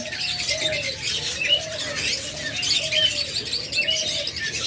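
Pet birds in a shop selling budgerigars and lovebirds, with dove-like cooing also present: a repeated low coo recurs roughly every second beneath a busy layer of high chirps and tweets, close and steady throughout.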